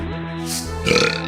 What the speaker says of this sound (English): Burping a lot